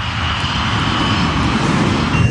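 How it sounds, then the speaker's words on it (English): Jet engines of an Avianca airliner roar loudly as the plane climbs away in a missed approach, a broad continuous rumble with a steady whine riding on top, up close and without speech. "The operation of pulling the plane up in the missed approach was a very violent one."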